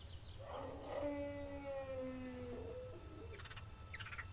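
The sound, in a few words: wolf howling in the video game Gabriel Knight 2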